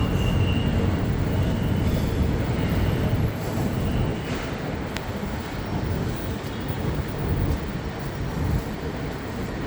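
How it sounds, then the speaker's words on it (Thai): An electric commuter train arrives at a station heading inbound toward Bangkok, heard as a steady, broad rolling rumble and hiss at moderate distance, without talk. "รถไฟฟ้า มาแล้วนะครับ อันนี้จะเป็นขาเข้าใน กทมนะครับ"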